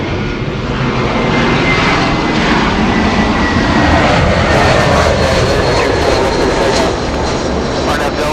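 A jet airliner in America West retro livery at Los Angeles International Airport, its engines giving a loud steady roar and whine that holds strongly throughout.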